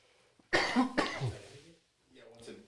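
Two harsh coughs right up close to the microphone, followed by a moment of quiet and then someone speaking softly.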